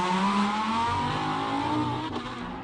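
A modified Mercedes A45 race car with a 2-litre engine powers up the Simola Hillclimb during King of the Hill 2021, its engine revving hard and loud nearby before the note drops slightly as it pulls away.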